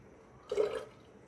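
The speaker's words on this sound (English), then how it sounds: "So now first thing, I'm going to put 25 ml of water." Water poured into a measuring container for a 25 ml measure during an ethanol blend test on HP Power 100 petrol, a single short splashing pour rising and fading over about a third of a second, close and fairly quiet.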